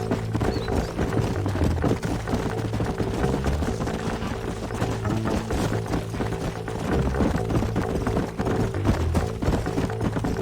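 Horse hooves clop steadily in Red Dead Redemption, a brisk rhythmic gallop of several horses running over ground, loud and close, with a low musical drone under it and no speech.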